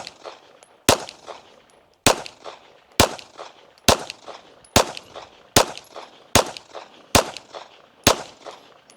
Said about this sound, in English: we're going to start off shooting a 10-shot group at the top right target